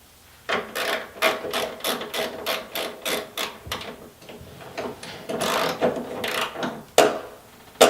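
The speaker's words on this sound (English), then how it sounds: "Then we can torque the idler nut to 30 foot-pounds." A torque wrench ratchets in quick, even clicks while tightening the idler nut on a Yeti SnowMX jackshaft; the bursts come close and steady, with a louder snap near the end.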